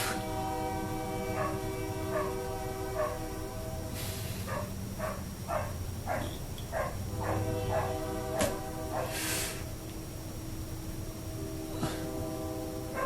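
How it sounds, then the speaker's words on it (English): A train rolls by close to a room, its horn sounding in repeated bursts through a steady low rumble, with a couple of sharp clanks and a continuous hum beneath. "I hate that fucking train"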